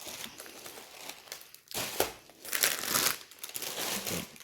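A parcel from an online order, holding diamond-painting canvases, is unwrapped close by, with soft rustling that builds into several louder crinkling swells of plastic packaging.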